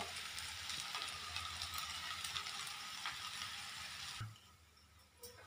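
Onion podi dosa cooking in oil on a pan, a soft steady sizzle and crackle at low volume that thins out near the end, with no talking.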